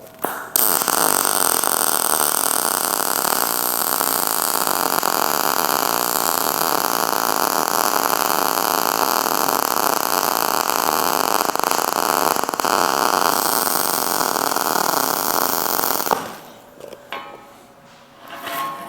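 A Mig 2800i MIG welder running on steel with a 1.5-inch wire stick-out gives a loud, steady crackling hiss for about sixteen seconds, then cuts off, leaving quieter faint sounds.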